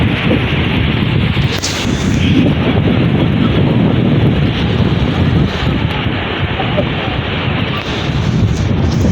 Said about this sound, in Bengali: দেখছেন ঢেউটা কত জোরে আসতেছে